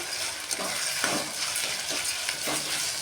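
Green gram lentils and tomatoes frying in a pan for sambar, a constant sizzle broken by several rhythmic scraping stirs of a spatula, close up and without speech.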